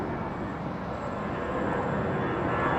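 Azerbaijan Airlines Boeing 787 Dreamliner on final approach at London Heathrow, a steady broad jet roar that swells slightly toward the end, heard from a distance with no voices.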